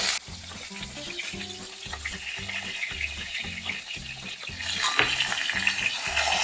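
Potatoes and fish fry in a pan for a ridge gourd curry, with a continuous close sizzle and rhythmic low clatter from stirring, growing louder and hissier toward the end.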